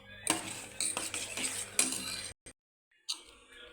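A spoon stirs semolina (rava) into boiling water in a pot, with scraping and light metallic clinks against the pot, a brief pause of near silence, and then more stirring.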